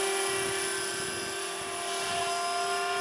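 An RC Apache Longbow AH-64 model helicopter, a 500-size build, flies outdoors on a windy day, giving a steady high-pitched rotor and motor whine with a strong constant tone, loud and unbroken throughout.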